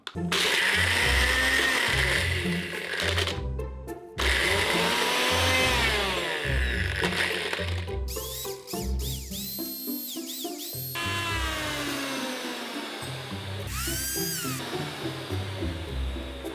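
A Ninja Blendboss blender turning ice into snow runs loud and close, its motor whirring and grinding with repeated surges and brief pauses as the load shifts, with no talking.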